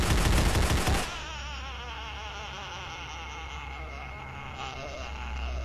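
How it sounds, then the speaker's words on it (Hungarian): Rapid machine-gun-like weapon fire bursts from a SpongeBob video game in a loud, dense rattle at the start, then cuts off after about a second, leaving a low droning game background hum. "miért tudom használni a fegyveremet, mint egy gépfegyvert"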